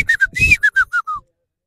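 A man imitates a partridge call with a rapid run of about eight sharp, whistled notes that slide downward in pitch. The notes are loud and close, and silence follows.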